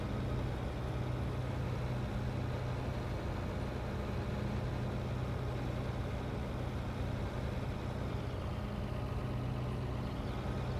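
A tractor engine runs steadily in Farming Simulator 22, a constant low droning rumble with no breaks, moderately loud and alone.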